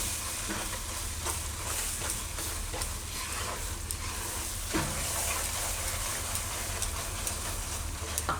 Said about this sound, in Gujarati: તો હવે આપણે આમાં નાખશું મલાઈ, એને મિક્સ કરી લઈશું.